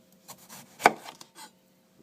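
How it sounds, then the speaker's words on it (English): A knife slices a tomato in half on a cutting board for guacamole, giving one crisp, close chop followed by a few soft scraping and rubbing sounds. "Okay, now for our tomato. So I'm going to cut it in half."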